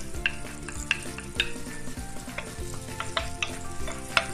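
Chopped garlic sizzles steadily in hot butter and oil for a chopsuey, with a spatula scraping and clacking against the pan at intervals, close and fairly loud, with no talking.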